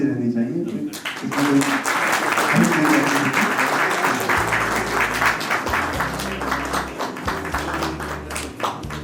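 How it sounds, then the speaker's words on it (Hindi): Audience applause at a farewell event, sustained dense clapping from a crowd that continues for the whole stretch, with a low hum and some faint voices underneath. "तालियां बजती रहनी चाहिए।"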